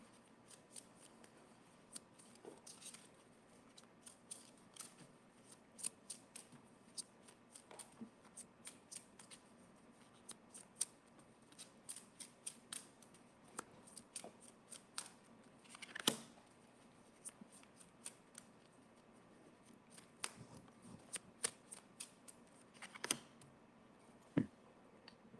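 Tarot cards being pulled and shuffled, giving faint, scattered papery flicks and soft snaps in irregular bursts over a quiet room, with no talking.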